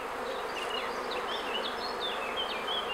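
Honeybees in a small hive give a dense, continuous buzz at close range, with individual bees whining past over the steady drone; no voices.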